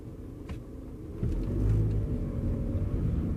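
A car turning with its wheels cut fully to the left during a pre-purchase inspection test drive gives a steady low engine and road rumble from inside the cabin, rising slightly in level as it pulls around.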